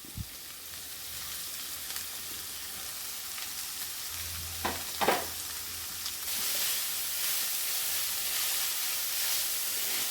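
A cabbage and coconut mix for Kerala sadhya thoran hits a hot pan, with a steady hiss and sizzle that gets louder partway through, plus a few faint knocks.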